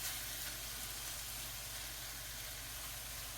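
Scrambled tofu steams and sizzles in a covered pan, a soft continuous hiss with faint crackling, steady and quiet throughout with no talk.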